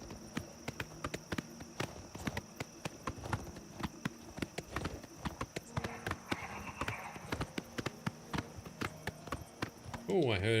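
Horse hooves clip-clop in a steady rhythm as a rider travels on horseback in Oblivion Remastered, the repeated sharp hoofbeats carrying throughout over game ambience, with a voice briefly near the end.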